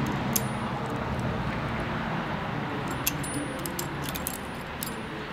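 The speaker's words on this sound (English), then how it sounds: "Then we'll just tighten them up with this little wrench." A small wrench tightens the nuts on a Feit Electric string light fitting, producing faint, scattered metallic clicks over a constant outdoor background hum.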